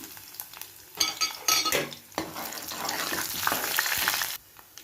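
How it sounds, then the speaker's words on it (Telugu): Whole spices for a tempering crackle and sizzle in hot oil, with loud popping bursts and stirring scrapes over a dense, steady frying hiss that cuts off near the end. "చూడండి ఆయిల్ పెట్టుకున్నాను, పోపు వేసుకుంటున్నాను"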